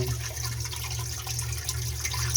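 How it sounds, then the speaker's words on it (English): Storm water pours steadily into a sump pump pit after a big storm, a continuous close trickling and rushing with a low hum underneath. "The water coming in is real fast."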